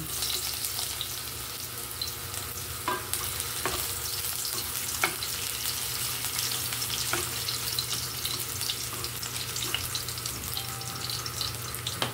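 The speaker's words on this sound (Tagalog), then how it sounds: "Igisa ko muna tong luya." Ginger sizzles steadily in hot oil as it is sautéed in a pan for chicken tinola, a continuous frying hiss with occasional stirring clicks and no talk.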